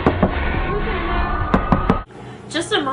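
Several sharp knocks on a door in the 2010 film A Nightmare on Elm Street sound close and loud under an ongoing voice and background music.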